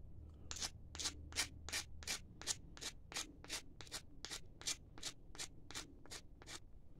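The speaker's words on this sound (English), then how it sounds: "The obsidian's even scraping it." Obsidian scrapes across soft reddish-brown stone in a steady series of about eighteen short rasping strokes, close and quiet, evenly spaced with no talking.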